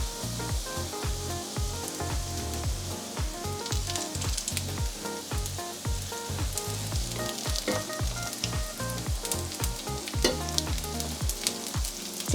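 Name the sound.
quinoa, tuna and potato patties frying in pan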